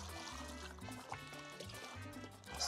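Water poured into a pot of raw chicken being cleaned for Dominican locrio, a steady close trickle and splash running for a few seconds with faint background sounds.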